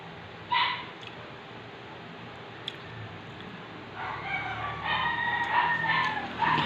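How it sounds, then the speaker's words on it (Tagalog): Chickens clucking and calling nearby, with a short burst early on and more persistent clucking toward the end over a quiet outdoor background. "May manok naman dito."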